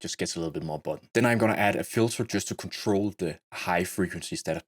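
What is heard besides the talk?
No everyday noise stands out behind the speech.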